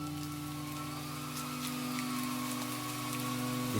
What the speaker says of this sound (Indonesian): di luar hujan mulai turun